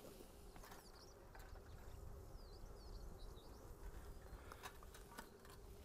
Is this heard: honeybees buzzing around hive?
yes